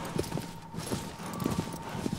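Horse hooves clip-clop at a steady walking rhythm in Shadow of the Colossus on PS4, soft and muffled beneath a constant background hum.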